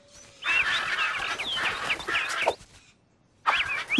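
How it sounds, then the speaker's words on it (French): Birds in a pet shop squawk and chatter loudly in a busy overlapping burst, pause briefly into near silence, then erupt again with shrill calls. "Les cris d'oiseaux me donnent mal à la tête."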